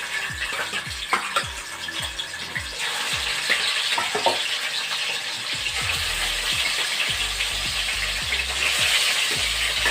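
Rohu fish frying in hot oil in a pan, a steady loud sizzle and crackle throughout with occasional scraping and stirring clicks, no voices.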